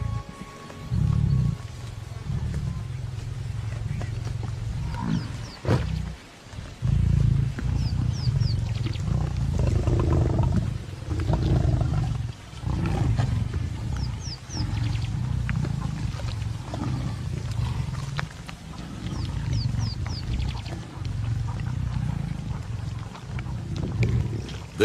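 Lions roar and growl over a fresh kill in the Botswana bush, repeated deep bursts of rumbling roars broken by short pauses, close and loud, with faint higher calls scattered in the background.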